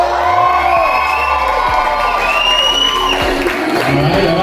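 A crowd of wedding reception guests cheers and whoops loudly, shrill voices and shouts overlapping in a sustained, excited roar close by.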